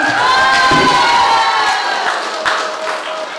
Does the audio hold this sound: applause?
yes